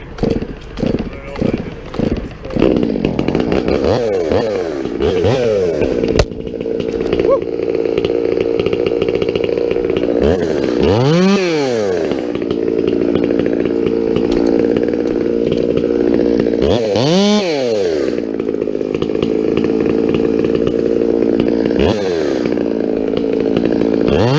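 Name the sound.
chainsaw cutting a felled tree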